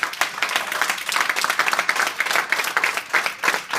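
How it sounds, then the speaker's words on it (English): An audience at a motivational talk breaks into a loud, dense round of applause, many hands clapping together close and steadily for several seconds with no voices over it. "a very big round of applause for Loretta"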